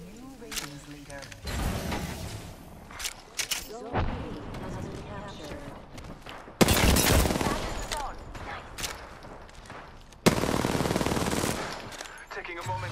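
Bursts of automatic gunfire from an Apex Legends match, loud and repeated as full magazines are emptied, with sustained sprays separated by short pauses and a voice talking over the shooting.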